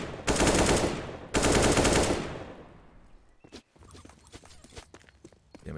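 Rapid automatic gunfire in Counter-Strike on the Inferno map, two loud sustained bursts close together, followed by scattered quieter shots and footsteps.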